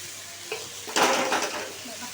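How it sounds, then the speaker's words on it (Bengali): Potatoes and onions sautéing over high heat in a pan, a steady close sizzle that swells briefly with a burst of stirring scrapes, loud and with no speech. "এখানে একটু হাই আঁচ করে দেবো, সুন্দর করে কষাতে থাকবো।"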